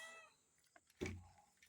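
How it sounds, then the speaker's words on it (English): A black cat at a cassava garden gives a single short, faint meow at close range, then a brief louder thump near the end. "this is my cat. Oh, this makes sound."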